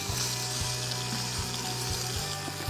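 Lemongrass and ginger aromatics sizzling in a pan, a steady close crackling fry with faint regular thumps underneath, no voices.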